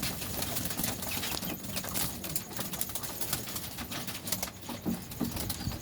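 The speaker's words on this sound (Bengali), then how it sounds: "দেখুন রাত্রেবেলা খুব সুন্দরভাবে পায়রারা খাবার খায়।" Pigeons feed on wheat grain at night, with soft scattered pecking, patters and bursts of wing flapping over a steady dense background hiss; no one speaks.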